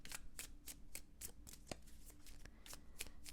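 A deck of tarot cards is shuffled in steady repeated riffles, crisp and close, with no talking over it.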